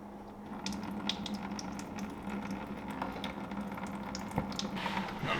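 Coolant drains under pressure from a Lexus GX470 radiator with the cap on, a steady rushing, splashing flow of liquid that continues throughout at moderate level, with no talk.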